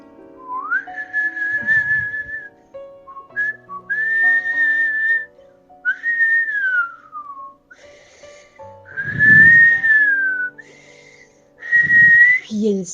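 A person whistles a slow, wandering melody of sliding and sustained notes, loud and close, with short gaps between phrases and some soft background thumps.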